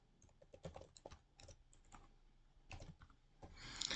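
Quiet, rapid typing on a computer keyboard, with irregular bursts of key clicks running for several seconds and growing slightly busier toward the end, with no voice.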